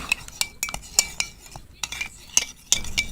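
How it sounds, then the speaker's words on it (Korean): A spoon clinks and scrapes repeatedly against a bowl while stirring a pudding mixture, the quick metallic taps close and irregular, with no talking. "그런 다음에 섞어줍니다"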